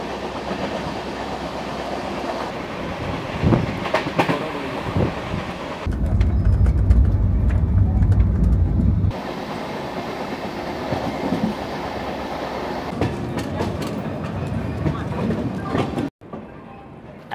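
The Kumbha Express 12370 rolls along the rails with a steady rumble and rhythmic clatter heard from on board, growing louder in one stretch before cutting off abruptly, with people talking now and then.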